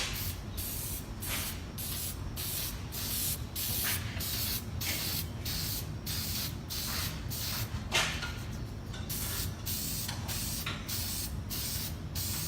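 Repeated short bursts of aerosol spray hiss in a steady rhythm, about a dozen quick pumps close to the mic, as oil-based filter oil is sprayed onto a K&N air filter.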